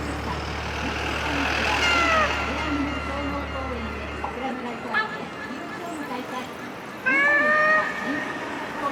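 A giant 3D cat billboard in Shinjuku, Tokyo, gives loud meows in two bursts, one early and one near the end, over a busy street hum of traffic.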